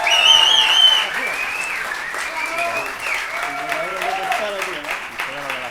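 A small audience at a Spanish-language talk claps warmly for a guitarist, loud at first and then thinning out as voices carry on over the fading applause.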